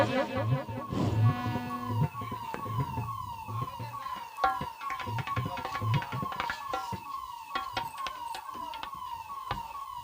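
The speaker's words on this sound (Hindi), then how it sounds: "अगर एम्बुलेंस है तो उसको निकाल दीजिए, जगह दे दीजिए आप लोग।" A wailing ambulance siren rises and falls repeatedly amid traffic and crowd noise, loud and fairly close.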